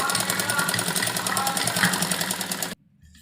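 A sewing machine stitches a heavy suit, running in a fast, even mechanical rattle close by for a few seconds before stopping abruptly into near silence.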